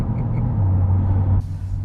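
A Chevrolet C8 Corvette with an AWE exhaust idles and rumbles steadily with a low drone, then the tone drops and quiets near the end as the note changes.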